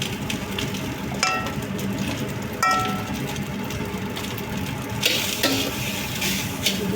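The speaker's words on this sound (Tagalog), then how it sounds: "Sinisa ko na siya guys, ang rice." Rice stir-fries with garlic in a pan, a dense close sizzle with intermittent scraping and clacking of a utensil stirring against the metal, a few sharper knocks spaced out over several seconds.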